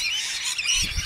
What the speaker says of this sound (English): the noise, of course, you can hear is the unmistakable magpies